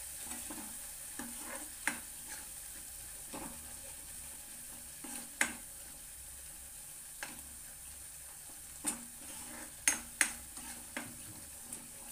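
Chutney with Malvani garam masala stir-fried in hot oil in a pan: a soft, steady sizzle runs throughout, broken by scattered clinks and scrapes of a spoon stirring against the metal, with no talking.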